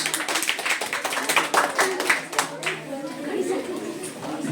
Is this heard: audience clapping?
yes